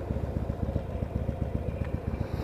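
A Harley-Davidson 883R motorcycle engine idles nearby with a steady, loping low-pitched rhythmic thump, loud and alone.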